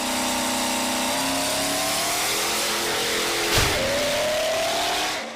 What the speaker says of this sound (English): his triple-turbo LB7 Duramax is still a badass build